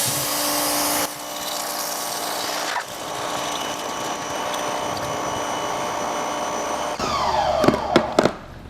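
A pressure washer fires through a 3.7 orifice nozzle pushed into a bucket, making a steady, loud hissing rush of spray with a droning pump underneath and a few sharp sputters near the end.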